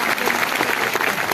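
Audience applause at an agricultural products training session, a steady dense burst of clapping from a room full of people, loud and continuous throughout.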